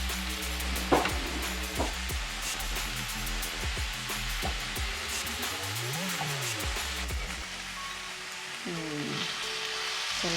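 Beans are stirred as they fry in a pan, giving a continuous sizzle with scraping and clinking from the stirring, while faint background music plays.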